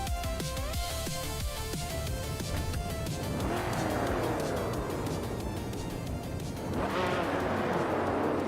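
A pack of race cars, including a 1969 Dodge Charger and a Dodge Dart, roars off at the start of a race, engines revving loudly and rising in pitch as they accelerate, with tires squealing and cars sweeping past.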